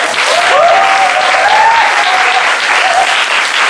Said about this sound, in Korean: 오늘 강연자들을 위해서 우리 모두 큰 박수 한번 쳐드릴게요